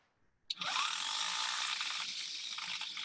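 Ratchet tool turned to loosen and tighten, a sudden start followed by a steady close whirring rasp of rapid clicks that runs on evenly, no talk.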